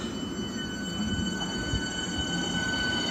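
A London commuter train runs on its rails with a steady, close rumble and thin, sustained metallic whine tones, continuous throughout with no talking.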